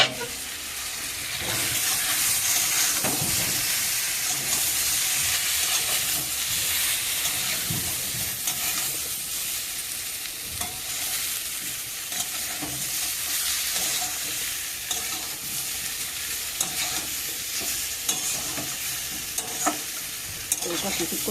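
Fried potatoes being stirred into a spice masala in a pan, continuous sizzling and frying with scraping stirring strokes, close and steady with no talk.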